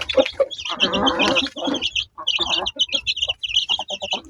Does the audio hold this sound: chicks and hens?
yes